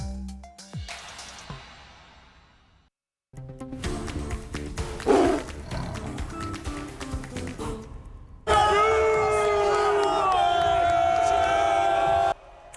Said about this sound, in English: Ah, yes, the cheer we all know so well.